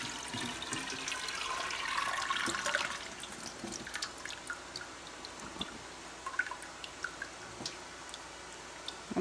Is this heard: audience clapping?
no